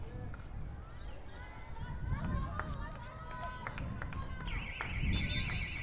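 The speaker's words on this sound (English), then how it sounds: "that's the buzzer for the end of the first quarter" A sustained electronic buzzer sounds near the end, marking the close of the first quarter at a women's hockey preliminary final, rising over crowd noise and commentary.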